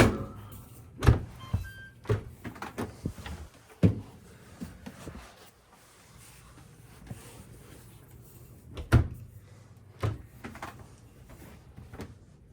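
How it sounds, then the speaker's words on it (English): A GE dishwasher door is swung shut, giving a series of sharp clunks and thumps with a damaged hinge, the impacts spaced irregularly between quieter stretches of handling noise. "Now I'll close the door."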